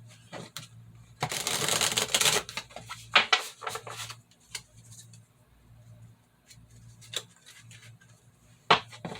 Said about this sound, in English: to shuffle them a little bit.